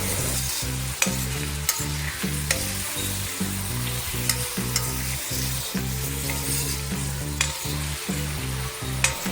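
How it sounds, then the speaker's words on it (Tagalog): Onions sizzle and caramelize in a pan, a continuous loud frying hiss with regular rhythmic scraping strokes of a spatula and occasional metallic taps, no voices. "Tapos isasama na natin yung ating sibuyas hanggang sa mag-caramelize ito."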